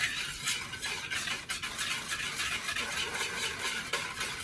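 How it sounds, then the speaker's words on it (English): Eight eggs being whisked with sugar, mastic and cardamom for a Greek vasilopita sweet bread, giving a steady, dense swishing whir that runs continuously at close range with no talk. "We are whisking the 8 eggs together with the sugar"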